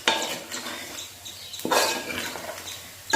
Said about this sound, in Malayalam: നമുക്ക് നന്നായിട്ടൊന്ന് ഇളക്കാം.